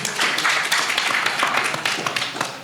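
Audience at a press conference applauding the speakers, a dense burst of many hands clapping close and loud, continuing briefly throughout.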